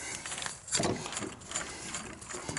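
A track trencher engine being turned over by hand makes a mechanical ratcheting, grinding turnover in slow uneven strokes, close and moderately loud, with no voices.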